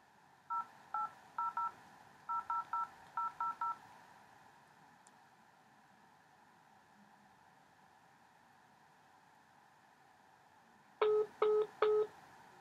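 Touch-tone dialing on an iPhone 4S: a quick run of short, evenly spaced keypad beeps, a long quiet gap, then three more louder beeps near the end.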